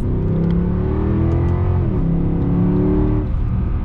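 A Mercedes C63 AMG engine rumbles loudly and steadily up close, its revving pitch holding, dipping briefly midway, then settling again, with no talking.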